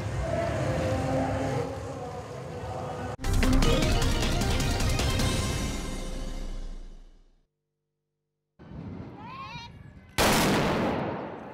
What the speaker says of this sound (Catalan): Aquest ha estat el tret de sortida de la trobada de la dona trabucaire de Catalunya.